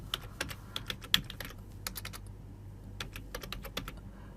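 Rapid, light keystrokes tap on a computer keyboard in bursts with brief pauses, close and fairly quiet, while narration is entered in Tally Prime accounting software; no voice is heard.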